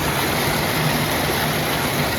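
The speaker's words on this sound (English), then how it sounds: "That's all the water coming out." Floodwater gushes steadily out of a culvert sewer grate built to keep floods out, a loud, continuous broadband rush with no pauses.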